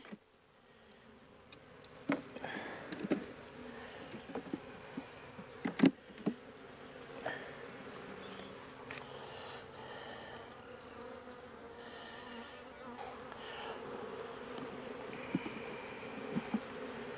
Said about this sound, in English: you can see, not a whole lot of bees.